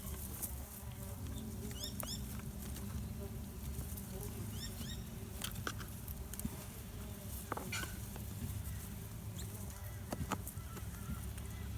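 Australian stingless bees, Tetragonula carbonaria, at an opened hive give a steady, dense buzz throughout, with brief high chirps scattered on top and no talking.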